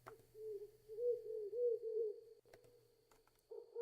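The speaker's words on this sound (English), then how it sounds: "That's owls, by the way." Owls hooting in a nighttime scene in the Touhou LostWord video game, a series of low, wavering hoots close together, then a brief pause and a short final hoot against a quiet background.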